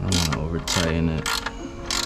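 A ratchet tightens a bolt on a Mugen ignition coil cover, giving several bursts of quick clicking strokes separated by short pauses, with faint talk and mechanical noise underneath.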